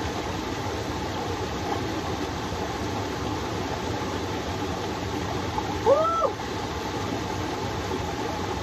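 A river in Taiwan flows with a steady, soft broadband rush throughout, a brief squeaky sound rising above it near the middle.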